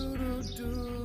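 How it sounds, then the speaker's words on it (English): Birds chirping outdoors on a morning, short high tweets over a steady low hum of background noise, no talk. "You hear the birds chirping"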